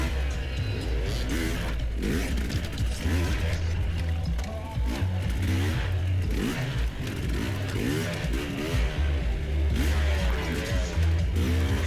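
An enduro dirt bike on a hard enduro prologue course revs hard on the throttle, its engine note rising and falling in quick repeated surges, close and loud throughout with a gritty low drone beneath.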